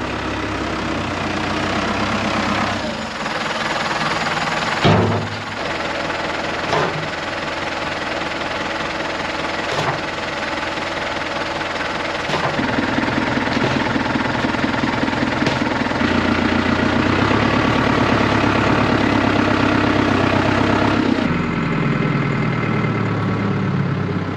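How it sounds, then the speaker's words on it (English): Small handy yard tractor engine running steadily close by, a continuous low idling drone with a slight knocking rumble and occasional clanks, no voices. "It is my go-to tractor, because handy little yard tractor this time of year"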